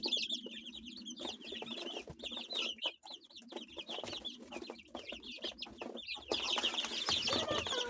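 Young chicks at home chirp and peep in a dense, continuous chorus while being given feed, with clucking mixed in throughout.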